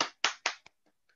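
Three quick bursts of clapping in rapid succession, followed by a couple of faint, scattered claps as it dies away.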